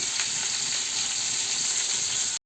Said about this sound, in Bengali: এর মধ্যে আমি ফ্রেশ করে ধুয়ে রাখা পটলগুলো ভেজে নেব